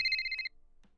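A telephone gives a single close, clear electronic ring that stops after about half a second, followed by a faint knock and quiet room noise.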